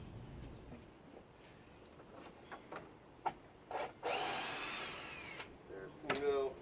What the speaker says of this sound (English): I'm going to come over to this side and relieve the screws on this side.